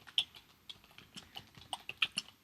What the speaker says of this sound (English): So I'm going to type in the name of the author, not Allen, but Edgar Allan,